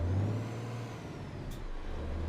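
In American Truck Simulator, a truck idles with a steady low diesel drone while the handbrake is released with a short, sharp burst of hissing air midway through.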